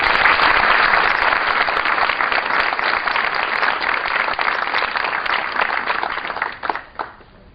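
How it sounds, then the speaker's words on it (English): Sustained applause from a convocation audience welcoming the chief guest, dense and steady clapping filling the hall before fading out near the end. "I request you all to please put your hands together once again in welcoming him this afternoon"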